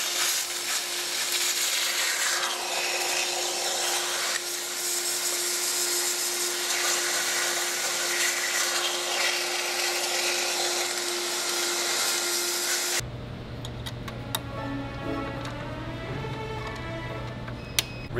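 A vacuum cleaner cleans a car engine's intake system, running loudly and steadily with a constant whine, then switching to a quieter hum with light clicks and tapping toward the end.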